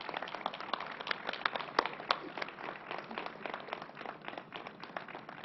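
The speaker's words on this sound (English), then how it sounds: "let's give them another round of applause and welcome Donna Lepardo." An audience at a governor's COVID-19 briefing claps steadily for nursing students and National Guard members, a dense, even patter of many hands that holds for several seconds with no speech over it.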